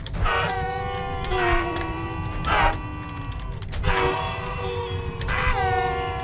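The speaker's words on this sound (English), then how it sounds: "Oh, they're making sad honking noises because they're dead." Sad honking cries from dead creatures in a video game, a series of mournful tonal honks with wavering pitch repeating every second or so over a steady noisy game background.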